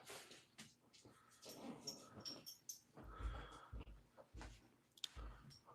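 A dog named Doug breathes close up with soft wheezy huffs and snorts, coming in irregular bursts and stopping now and then, the sounds fairly quiet.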